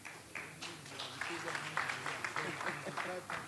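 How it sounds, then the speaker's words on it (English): An audience applauds a prime-time TV news presenter at an investors' roundtable in Lagos, a steady round of clapping mixed with voices in the room. "Let's give him a round of applause, too."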